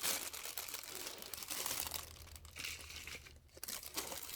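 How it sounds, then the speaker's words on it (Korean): Peat moss being filled into a plastic bottle makes faint, close crinkling and crunching rustles that come in uneven, continuous bursts, with no talking. "이 피트모스를 여기다 채울게요."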